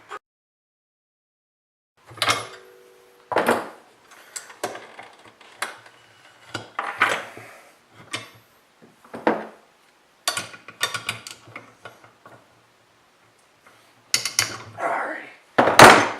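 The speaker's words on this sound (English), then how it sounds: "Use this compression tool to compress this down onto the shaft." Compression tool pressing a snowmobile clutch down onto its shaft: close metallic clanks, ratcheting clicks and scraping in irregular bursts separated by short pauses, with occasional speech.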